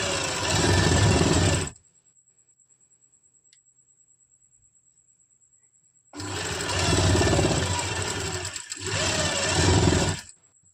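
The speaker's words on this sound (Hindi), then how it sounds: "हल्का हल्का पलटते हुए इस पे दोबारा से सिलाई लगा देनी है।" A sewing machine stitching palazzo fabric runs in a loud, steady whir for about two seconds, falls silent, then runs again in two long bursts with a brief pause between them.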